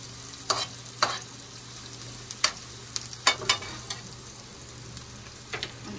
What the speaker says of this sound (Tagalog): Antay-antay lang tayo ng mga minutes until maluto ang onion